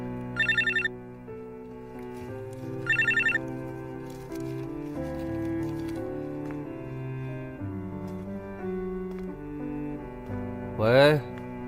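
A telephone rings twice in bright bursts over a bed of background music, followed by a short rising tone near the end.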